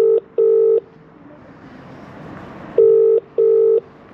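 UK-style telephone ringback tone, two double-burst rings separated by a pause, loud and clear with faint room noise between them.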